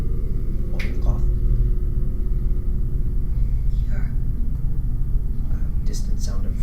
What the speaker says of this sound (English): Distant sound of thunder rumbles in the background.